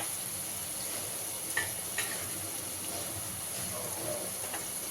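Onion paste fries in a pan for Telangana-style mutton keema curry, giving a soft, continuous sizzle with a few faint spoon clinks, fairly quiet and free of talk.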